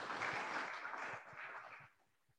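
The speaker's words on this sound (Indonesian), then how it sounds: "Para tim pendukung dipersilakan tepuk tangan." Supporter teams clap at a student class-representative debate, a faint, dense patter of applause from a room audience that fades out quickly.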